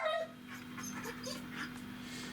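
A dog whimpers with a short high whine at the start, then faint yips and whines over a steady electrical hum in a quiet room.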